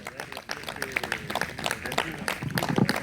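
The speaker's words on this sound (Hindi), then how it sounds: "भरपूर तालियों से तशरीफ लाते हैं" Audience applause greets the TWC Sindh chairman as he comes up to speak at a park's first-anniversary ceremony, a dense patter of clapping that swells toward the end, with some voices mixed in.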